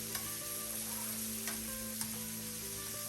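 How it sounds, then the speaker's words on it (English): Shrimp frying in a pan for creamy garlic shrimp give a steady, soft sizzle, and a few light taps and scrapes come through as they are turned. "the shrimp doesn't take long to cook, so after about a minute or so I'm already flipping them"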